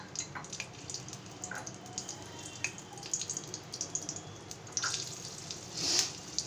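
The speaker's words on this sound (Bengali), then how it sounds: "তেলে প্রথমেই আমি দিয়ে দেবো কয়েক টুকরো কাঁচা লঙ্কা" Green chili pieces frying in hot oil while cooking a raw plantain dish give a steady, soft crackling sizzle with scattered sharper pops, fairly close and alone without talk.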